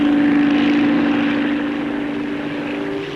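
A Bristol Type 173 twin-rotor tandem helicopter flies past for flight research with a loud, steady droning engine and rotor hum that fades slightly as it moves off.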